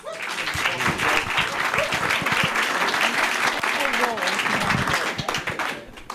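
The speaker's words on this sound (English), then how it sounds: "A round of applause, please." A seated audience at a historical talk on Hudson River sloops in Beacon gives a sustained round of applause, dense clapping that holds steady for several seconds with some voices mixed in underneath.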